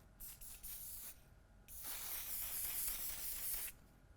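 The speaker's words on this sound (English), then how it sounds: "This is the One Size setting spray" One Size makeup setting spray hisses from its bottle in short, close spritzes: a few quick bursts, then one longer steady spray of about two seconds, fairly faint and with no talking.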